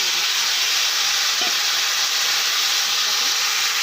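Cumin seeds and bay leaf frying in hot oil, a dense, even sizzling hiss that stays loud and constant throughout.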